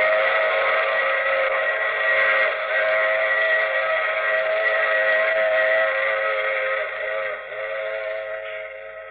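A train whistle from an old radio mystery drama blows in a long sustained multi-tone chord, loud and steady, then fading slightly toward the end, with no voices over it.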